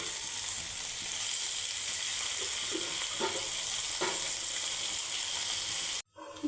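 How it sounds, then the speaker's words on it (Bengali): Small pieces of meat frying in a pan with spiced turmeric and chili masala, a steady close sizzle with a few louder crackles and stirring scrapes, cutting off abruptly at the end. "এটাকে সুন্দর করে ভেজে নিব।"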